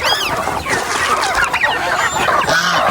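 Farm chickens and geese crowd around scattered feed, with clucking and loud honking overlapping continuously at close range, busy and noisy throughout.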